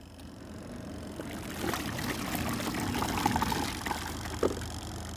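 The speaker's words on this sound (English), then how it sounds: "as it spins, it sucks the water out" A small portable spin dryer whirs as it spins laundry, water rushing and trickling out in a steady, moderately loud stream with a rising hum.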